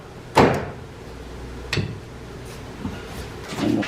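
Door lock on a 1980-1996 Ford Bronco during power window motor repair, giving a sharp close click followed by a few quieter mechanical knocks and rattles against a steady background hiss.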